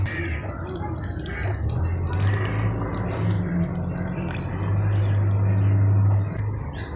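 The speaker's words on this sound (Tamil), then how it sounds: "இப்போ வந்து நம்ம புளி கரைசலை சேர்த்துக்கலாம்" Tamarind water poured into a simmering pot of sambar gives a steady, close liquid splashing and gurgling that swells toward the end, with no talk over it.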